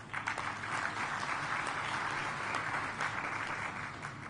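Steady, dense applause from a large audience in a conference hall at an intergovernmental committee session, holding an even level throughout.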